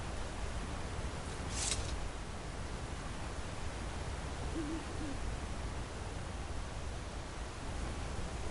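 Faint owl-like hoots float through a steady hiss of wind and forest ambience in Skyrim (The Elder Scrolls V) with an enhanced background sound mod, the birdcalls soft and distant under the constant wash.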